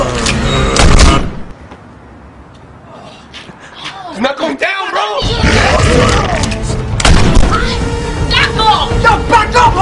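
Gunfire in a tense scene from The Walking Dead: sharp thudding shots burst out among agitated shouting voices and background commotion, with a quieter stretch in the middle before the loud clamor returns.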